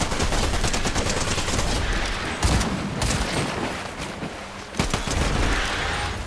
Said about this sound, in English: Yeah, this shotgun kind of sucks